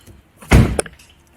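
A single dull mechanical thunk as the central door locks engage on a Mercedes-Benz W204, followed by a sharper click, close and fairly loud, with no voices.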